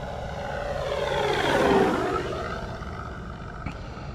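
An E-Flite Carbon Z T-28 RC plane flies past at just above half throttle, its electric motor and propeller whine building to a loud pass near the middle, then fading but staying steady as it flies on.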